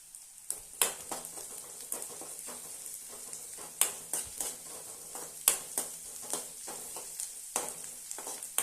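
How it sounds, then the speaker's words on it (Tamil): Onions and curry leaves sauté in a pan for a roasted brinjal dish, with a soft continuous sizzle broken by regular sharp spatula scrapes and taps, close and unaccompanied by talk. "நல்லா வதக்கி விட்டுடலாம். கருவேப்பிலையை சேர்த்துக்கலாம்."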